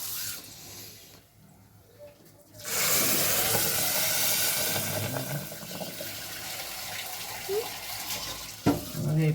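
Water pours steadily into a pot while jowar khichdi is cooked, a loud hissing gush that starts abruptly after a quieter stretch and runs for several seconds, with small clinks near the end.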